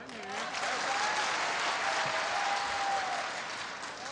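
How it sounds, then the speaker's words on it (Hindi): A crowd claps strongly at a poetry recital, kavi sammelan, in Burhanpur, with a dense, sustained burst of applause that swells and then tapers slightly, with faint voices underneath. "वाह वाह वाह, जोरदार तालियां।"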